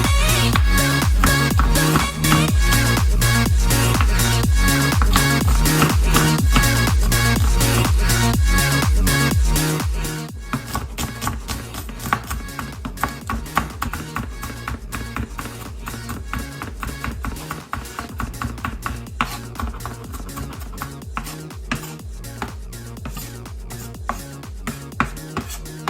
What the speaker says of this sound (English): Now I'm gonna go ahead and finally chop my red onion.